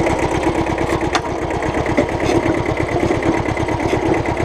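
A Kubota B7000 tractor engine runs at a steady, rapid chugging throttle while lifting 300 kg of counterweights, heard close and continuous with no talk.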